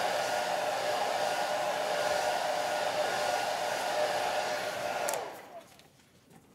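A hair dryer blows steadily on a watercolor painting of a tree, a loud close whirring hum that cuts off abruptly near the end, leaving quiet room tone.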